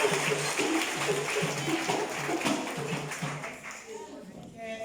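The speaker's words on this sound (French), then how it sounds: "Un gros applaudissement pour bon Dieu ensemble avec Jésus-Christ, notre Sauveur." Rhythmic clapping from a congregation during an evangelist's funeral sermon, steady regular beats under continuous talking.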